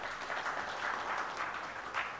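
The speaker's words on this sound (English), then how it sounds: "can we please have you on the dais with a huge round of applause?" Applause from a conference audience welcoming a technology lead to the dais at a technology leadership summit in India, a steady, fairly distant wash of many hands clapping without pause, quiet overall.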